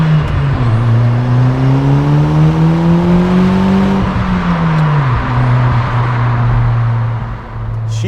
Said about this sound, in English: You can hear the turbo spooling.